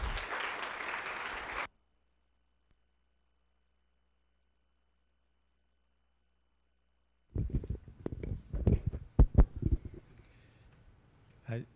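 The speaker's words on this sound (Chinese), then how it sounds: "让我们热烈的鼓掌欢迎我们的刘仲明副院长" A lecture audience claps to welcome a speaker, a brief full burst of applause that stops suddenly. Long silence follows, then scattered sounds and someone beginning to talk.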